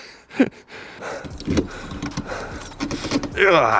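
Metallic jingling of Audi TT Quattro Sport car keys comes in short bursts alongside clicks and shuffling handling noises, close by, with a bit of breathy voice at the end.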